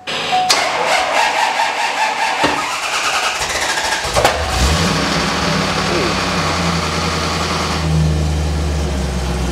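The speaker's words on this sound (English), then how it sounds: "that tapping noise that you can hear, that's the cam chain tensioner filling with lubricant" A C4 Corvette ZR1 barn find starts up and settles into a loud rumbling idle, with its cam chain tensioner ticking as it fills with oil, the engine near and steady.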